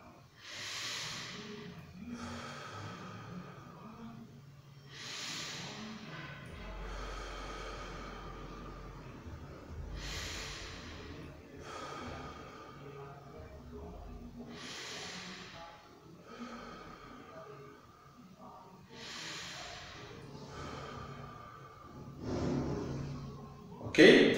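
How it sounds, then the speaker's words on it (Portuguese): Slow, audible breathing for a singing lesson, air drawn in through the nose and let out gently through the mouth, repeated in several breath cycles at close range, with a soft hissy quality and a louder breath at the end. "Puxei o ar pelo nariz e soltei pela boca levemente."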